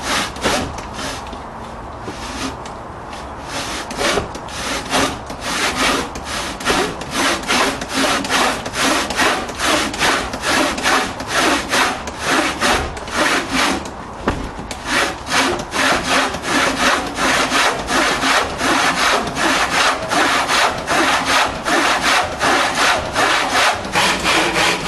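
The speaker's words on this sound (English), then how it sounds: "So I'm going to start sawing this big piece of timber up and see how I get on." A hand saw cuts through a big piece of timber for a homemade crossbow, steady rhythmic back-and-forth strokes rasping loudly and close throughout with no talk.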